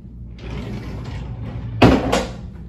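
A drawer slides and bumps shut during a house painting prep, a brief scraping rumble ending in a solid knock, fairly close in a quiet room.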